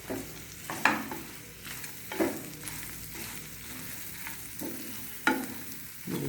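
Coarsely ground spice mix for a carrot, radish and green chili pickle is stirred in a pan over a gas flame. Close, intermittent scraping strokes stand out over a faint, steady sizzle, with no talking.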